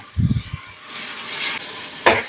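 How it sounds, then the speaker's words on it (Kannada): Onion and tomato frying in oil in a pan: a low thud and clatter at the start, then a soft sizzling hiss, and a sharp scrape of a stirring spoon near the end. "ಈರುಳ್ಳಿ ಟೊಮೊಟೊ ಎಣ್ಣೆನಲ್ಲಿ ಸ್ವಲ್ಪ ಚೆನ್ನಾಗಿ ಫ್ರೈ ಆಗಬೇಕು"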